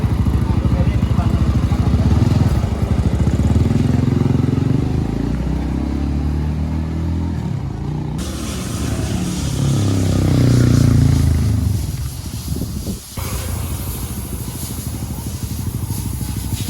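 Honda Sonic motorcycle engine running loud and steady throughout a test drive, a continuous rumbling drone with shifting revs, with a brief dip near the end.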